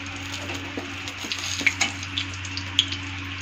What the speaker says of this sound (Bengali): এখন ওই তেলের মধ্যে আমি একটা তেজপাতা ছেড়ে দিব